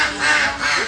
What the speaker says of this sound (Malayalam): ഇത് നമ്മുടെ താറാവും.